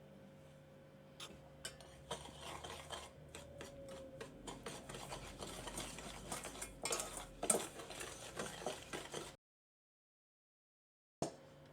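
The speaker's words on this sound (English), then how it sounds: "the goal is to whisk the sugar and the egg yolks into like a kind of thick and light colored" Whisk beating sugar and egg yolks in a bowl for pistachio gelato, rapid irregular clinking and scraping strokes building in intensity, then a sudden silence and one brief clink at the end.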